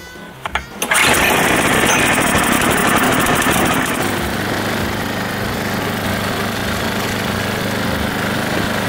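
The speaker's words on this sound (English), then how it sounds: "Gentlemen, start your engines!" On a snowy race speedway, a small engine barks to life after a few sputtering pulls and then runs loudly and steadily, a rough mid-pitched drone with other motors mixed in close by.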